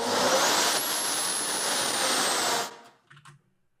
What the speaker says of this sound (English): I pulled the sound of some car turbo down off of YouTube